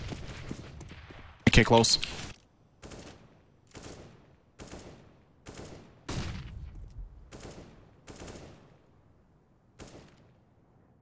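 Counter-Strike rifle fire on Dust2 rings out in a loud burst followed by repeated rhythmic shots at regular intervals, while a player talks briefly.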